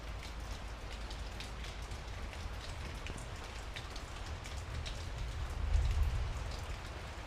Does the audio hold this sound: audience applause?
no